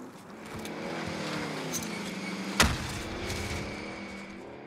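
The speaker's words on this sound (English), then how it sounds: "Another car." A car engine drones steadily in the Call of Duty Warzone video game, its pitch rising and shifting as it drives, with one sharp bang midway; no one speaks.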